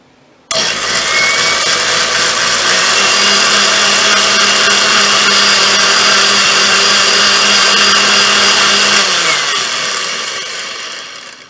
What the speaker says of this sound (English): This is a blender they usually have in a bar.